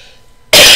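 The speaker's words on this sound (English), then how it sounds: "I'm still coughing" A single sharp, loud cough bursts in after a moment of near silence and rings out close to the microphone.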